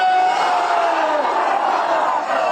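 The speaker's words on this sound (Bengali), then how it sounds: "সকল পতাকা উঁচু করে তাকবীর হবে।" A large crowd at an outdoor election rally in Narail, Bangladesh, roars a Takbir chant in unison, one loud sustained collective shout of many voices close at hand.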